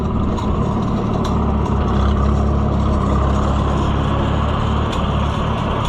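An Oliver Super 66 tractor engine idles close by, a loud, steady low rumble with a constant chugging throb and no pauses, running alone with no voices.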